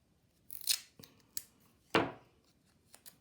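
Adhesive tape pulled off a roll and torn for a weaving project, a few sharp ripping and tearing sounds separated by short pauses, close and quiet.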